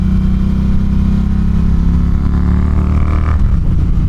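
A Triumph T120 motorcycle engine revving, loud and close with a steady deep throb, pitch climbing slightly before tailing off near the end, no voices.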